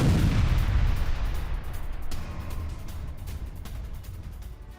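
Heavy airstrike blasts hitting a Hamas rocket launcher site, opening with a loud booming detonation whose roar decays into a long rumbling, crackling tail.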